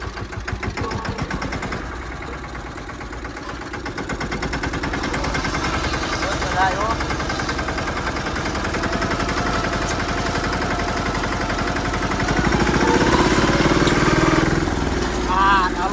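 A tractor engine chugs steadily at close range on a farm plot, a low throbbing idle with a rhythmic knock that swells slightly louder toward the end; faint voices and background noise sit beneath it.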